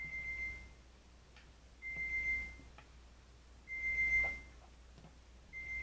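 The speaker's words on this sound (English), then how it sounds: "everything's going to start beeping and going off" Kitchen appliances give a high electronic beeping in short bursts about every two seconds, fairly soft, with faint clinks and room noise in between, while French bread is made.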